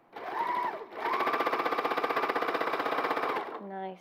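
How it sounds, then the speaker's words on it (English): An overlocker sewing machine stitches through fabric. It gives a loud, steady, rapid mechanical whir that stops briefly, restarts and runs for several seconds before halting, with a voice heard faintly at the end. "Make sure you take all your pins out with the overlocker."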